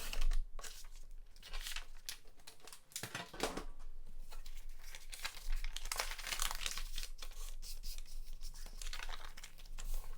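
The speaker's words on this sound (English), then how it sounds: "I really want to lean into the see-through element, so I think I'm gonna trim this paper" Paper being trimmed for letter writing gives close, busy crinkling and tearing, with sharp scratchy snips and rustles running continuously and unevenly throughout.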